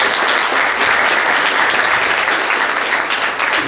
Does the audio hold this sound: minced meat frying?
no